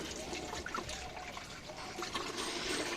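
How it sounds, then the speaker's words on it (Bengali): Water poured from a mug over someone's body and head on a hot day, a steady splashing trickle running the full length, close and fairly loud. "মগ নিয়ে নিতে তাহলে তাহলে গায়ে ঢাল জল গায়ে ঢাল মাথায় ঢাল"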